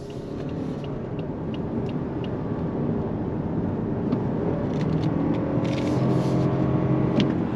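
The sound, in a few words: Lexus ES 300h hybrid sedan accelerating in sport mode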